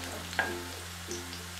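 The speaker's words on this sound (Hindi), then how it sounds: "इसमें सबसे पहले हम लहसुन जो बारीक कटा हुआ है उसे मैं डालकर हल्का सा इसे इसका कलर थोड़ा सा चेंज हो जाए उतना इसमें मैं फ्राई करूंगी" Finely chopped garlic fries in hot oil with a steady, fairly quiet sizzle, broken by a couple of brief scraping clinks of a spoon against the pan.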